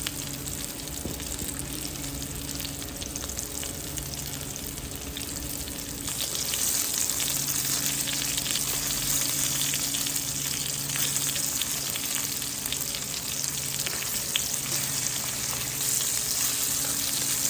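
Rabbit pieces fry and brown in a pan with a constant crackling sizzle that swells louder partway through, staying close and steady with no voices over it.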